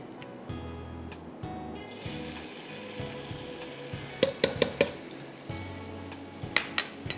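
Garlic stir-fries in a pan for vegetable fried rice, with an ongoing sizzle, repeated scraping and knocking of a spatula, and a burst of sharp clatters toward the end.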